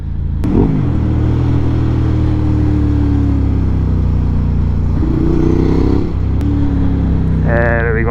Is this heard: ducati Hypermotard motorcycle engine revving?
yes